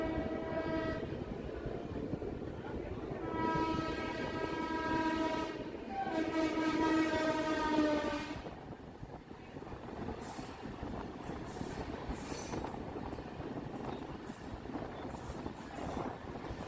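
A MEMU passenger train runs from Santragachi toward Jhargram, heard from on board as a steady rumble and rattle with a long, loud horn blast in the first half, then continued running noise.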